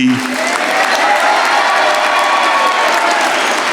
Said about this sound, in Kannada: ಚಪ್ಪಾಳೆ ಹೊಡಿರಲ್ಲೇ.